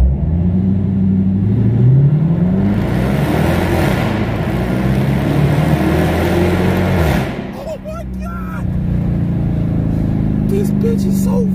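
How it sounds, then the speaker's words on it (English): A loud Mopar car engine roars close by, accelerating through rising revs before easing off, then settling to a lower rumble with a voice briefly heard. "I love the way this car sound"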